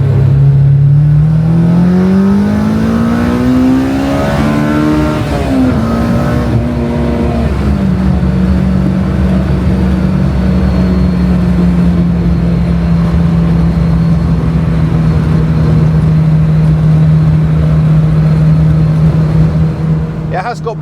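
V12 Jaguar engine accelerating hard on a road, heard from inside the car, its pitch climbing steadily, easing briefly, then holding a loud sustained drone throughout.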